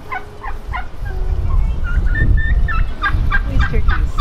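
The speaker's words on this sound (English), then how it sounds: "These turkeys." Several turkeys gobble in a close, loud chorus, with repeated rattling calls rising over one another against a steady outdoor background near a marina.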